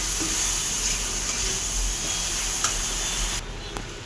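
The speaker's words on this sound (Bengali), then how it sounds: "ভালো করে নেড়ে দেবো।" A pan of fish pulusu with softened tomatoes gives off a continuous close sizzle and hiss, with a few light stirring taps and scrapes near the end.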